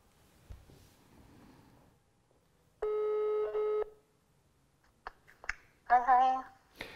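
A telephone call is dialed: a few clicks, then a steady electronic ringing tone that holds for about a second, followed by clicks and a voice on the line.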